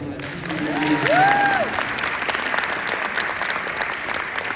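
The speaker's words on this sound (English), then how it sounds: "Seriously, can everyone give Mark a round of applause?" Audience applause at a leadership conference in Las Vegas, a steady wash of clapping filling the room for several seconds, with a brief whistle-like tone rising early on.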